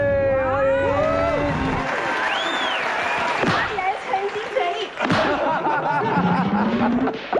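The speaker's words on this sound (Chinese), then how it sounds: "掌声鼓励。" A television variety show studio audience cheers and claps to welcome a surprise guest, with loud whoops and shouting mixed with the host's excited voice, continuous and close throughout.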